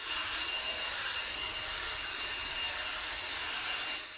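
A Makita 18V cordless mini leaf blower, DUB185 or DUB186, runs at a constant, whining, high-pitched roar, close and loud, holding steady for the whole stretch before easing slightly at the end, with no talking.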